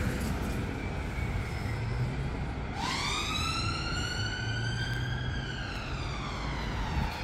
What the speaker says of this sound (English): An ambulance or a hurry-up wagon just coming along.